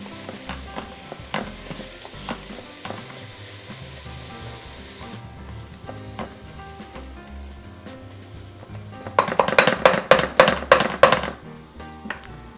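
Cabbage strips sautéing in a pan for vegan cabbage roll soup, with a soft sizzle, occasional utensil taps, and then a quick run of loud clattering stirs near the end.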